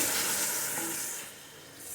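Lentils sizzling and frying in a clay pot for traditional handi haleem, a bright steady hiss close up that fades slightly toward the end.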